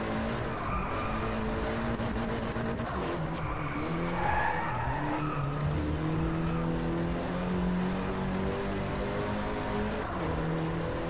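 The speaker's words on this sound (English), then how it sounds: "I was just trying to listen to the engine sound again. It's got a pretty nice engine sound." Racing car engine from the Driveclub video game, a steady droning roar with shifting pitch as the car accelerates and corners, accompanied by tire skidding and squeal, constant and fairly loud with no talking.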